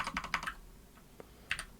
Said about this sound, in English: So click Return about 6 times.